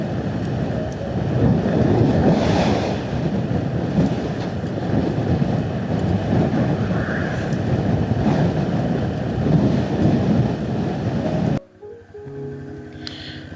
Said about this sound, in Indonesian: Kuat kali anginnya.